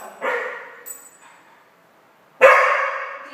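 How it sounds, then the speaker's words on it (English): A dog barks twice in a training setting, each bark a loud, close burst, with a quieter sound between them. "So Diva might bark just a little bit during this video"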